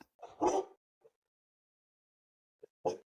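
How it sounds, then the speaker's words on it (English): A couple of short dog barks ring out, separated by a long silent gap, with a faint small yelp in between. "I got dogs barking."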